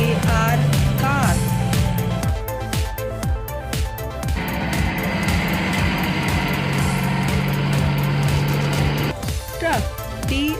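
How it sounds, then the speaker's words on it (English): A car engine sound effect runs loud and steady for about ten seconds, a droning hum with shifting tones and a brief dip in the middle. "car."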